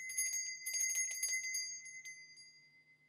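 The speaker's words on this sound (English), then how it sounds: "Oh, Cecil, we need to ring the bell." A small hand bell rings in quick, jangling shakes, bright and close, then fades out with a lingering metallic shimmer.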